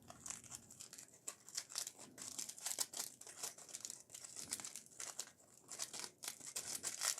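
A ball of aluminium foil is unwrapped by hand, giving continuous close crinkling and crackling in uneven bursts of rustle and sharp crumples throughout, with no voices.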